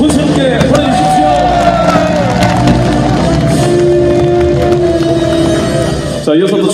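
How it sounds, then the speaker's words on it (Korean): Crowd at a Sinan County glass-eel fishing families' gathering cheers and claps for the county governor, a loud sustained mass of applause and shouts with a voice speaking over it, ending abruptly. "여러분 함성과 박수를 다시 한번 군수님께 보내주십시오"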